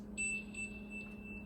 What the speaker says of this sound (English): Like a space sound.